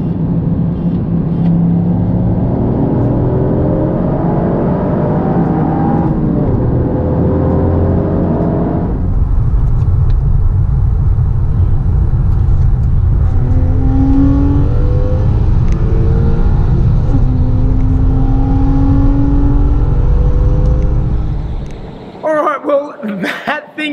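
A Toyota GR Yaris roll-races a Porsche 996 from 80 in third gear, with loud, close engine noise climbing in pitch through the run, then cutting off abruptly near the end.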